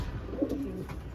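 Pigeons in a loft give a faint, soft coo about halfway through a quiet, brief stretch of low background noise.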